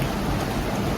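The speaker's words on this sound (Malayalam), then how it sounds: "മഴ തീരെ കുറഞ്ഞിട്ടില്ലല്ലോ" Steady heavy rain pours down in a dense, constant hiss, loud and close, during a downpour in Kuala Lumpur, Malaysia.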